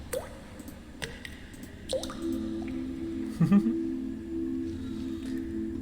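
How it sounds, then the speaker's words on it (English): Water dripping in a dungeon ambience from a Dungeons & Dragons Waterdeep soundpack: a few distinct wet drops that fall slowly and clearly, then settle into a steady resonant tone with one squishy splash, with no speech. "There's some beautiful drip sounds."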